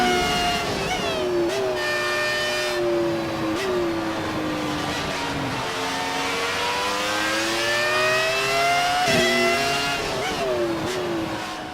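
A 1970s Ferrari Formula 1 car in the F1 2018 racing game screams at high revs, its engine pitch climbing steadily and dropping sharply at each of several quick gear shifts, loud and continuous with no talking.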